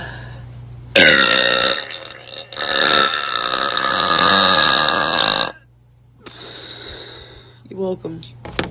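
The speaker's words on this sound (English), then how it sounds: "But first we burp." A person lets out long, loud, drawn-out burps, one big belch running several seconds followed by a shorter one, then quieter bursts after a brief pause, with no talking.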